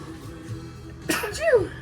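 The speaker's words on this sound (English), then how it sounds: "Achoo! Bless you." A single person's sneeze, a short sharp burst after a quiet indoor stretch, moderately loud and close, with no other talk around it.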